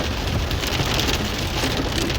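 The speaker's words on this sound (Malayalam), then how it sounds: "പക്ഷെ ഇപ്രാവശ്യം നല്ല മഴയായിരുന്നു" Heavy rain pours down while driving on the route through Muthanga, a dense, loud, continuous roar of drops drumming on the vehicle with no voices.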